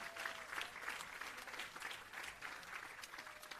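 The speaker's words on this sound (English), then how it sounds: "give yourselves and our facilitators a round of applause" Audience applause fills a graduation ceremony for restorative justice facilitators, a steady, dense wash of many hands clapping at a fairly even level throughout, with no clear voices standing out.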